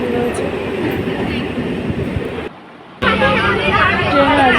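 A crowded local passenger train runs along the rails near Krishnanagar, a loud continuous rumble and rattle with a murmur of passengers, briefly dipping before the clatter returns louder.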